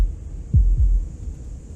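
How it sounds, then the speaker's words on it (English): A heartbeat sound effect from the video game Slay the Princess: two deep, close thumps in quick succession over a low steady hum, loud and alone. "That was the sound of a heartbeat,"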